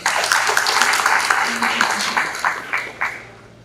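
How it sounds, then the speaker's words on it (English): A conference audience gives a round of applause at an industrialisation indaba, a brief patter of clapping that fades out over a few seconds, with talk mixed in. "A round of applause."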